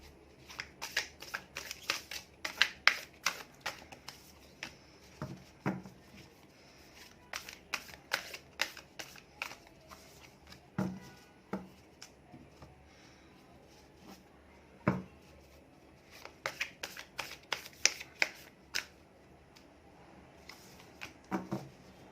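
Tarot cards are shuffled by hand in a close, quiet room, with repeated crisp riffling and flicking bursts that come in uneven clusters and pauses over the whole stretch.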